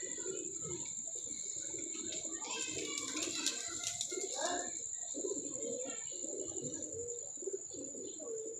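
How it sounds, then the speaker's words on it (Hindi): Pigeons cooing softly as a man brings them down from a raised pole, with low repeated coos and chirps, a steady high insect-like whine running throughout, and people talking nearby. "ये भाईजान उतार रहे हैं कबूतर"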